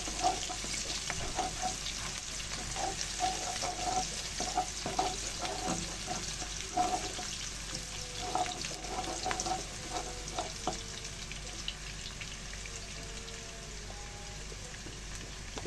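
Rendang spice ingredients sautéing in a pan with partly fried chicken, a steady soft sizzle with repeated light scraping stirs during the first half, then quieter frying.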